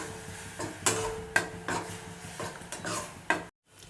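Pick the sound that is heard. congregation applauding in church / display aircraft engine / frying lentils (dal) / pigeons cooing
frying lentils (dal)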